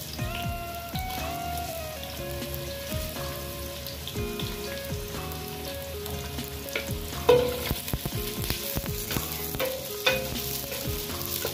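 Onions frying in a pan for Buldak cheese ramen give a soft, steady sizzle and crackle, broken by scraping stirs and a few sharper clanks of utensil on pan, with no talk.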